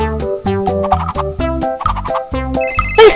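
A toy telephone from a baby doll beauty salon playset rings with a loud electronic melody of bright beeping notes, close by, ending with a brief higher trill.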